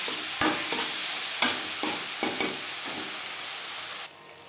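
Onion, tomato, salt, turmeric and spices being stirred in a frying pan for a Bengali yogurt fish curry: a soft continuous sizzle punctuated by several sharp scraping stirs, then quieter at the end.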